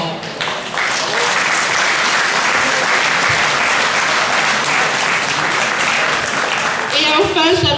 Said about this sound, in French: Ainsi, nous vous applaudissons très très fort.